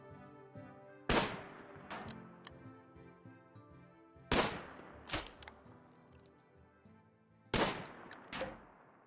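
Sniper rifles firing at turrets in the video game RimWorld, three sharp loud cracks spaced a few seconds apart, each followed by a lighter shot or two and fading tones, with quiet music underneath.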